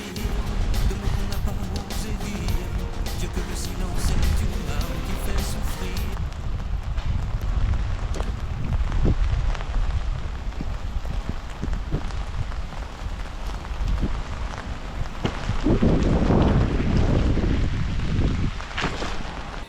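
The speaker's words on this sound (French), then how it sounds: "là il pleut vraiment là, puis ça fait pas semblant" Heavy rain falls steadily on a forest canopy where a cyclist shelters during a bike tour around Lake Constance, a dense continuous wash with gusty wind noise on the microphone and someone talking briefly.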